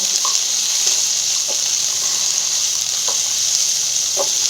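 Watermelon rinds cut in long strips stir-frying in a hot pan, a loud continuous hiss of sizzling oil with a few light scrapes of the spoon, close up and without voices.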